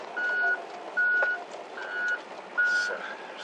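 A truck's reversing alarm sounding four evenly spaced beeps on a snowy town street, clear and moderately close over low traffic rumble.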